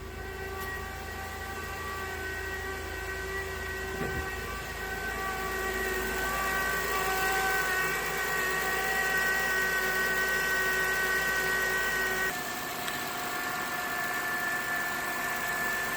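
A steady turbine-like whine with several sustained tones drones from the engine of a 2012 Acura TL, heard up close over an even idle hum, with one tone dropping out near the end.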